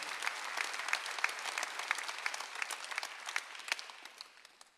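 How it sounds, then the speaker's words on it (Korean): A church congregation applauds during a Sunday worship service, a steady wash of many hands clapping, fairly faint and distant, with a few sharper claps before it tapers off. "박수하세요."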